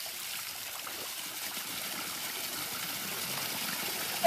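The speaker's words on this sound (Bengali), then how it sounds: "হঠাৎ করে ঝর্ণাটা শুরু হয়ে গেল" Water fountain spraying at an outdoor site in Mysore, a steady hissing rush of falling water heard close and evenly throughout.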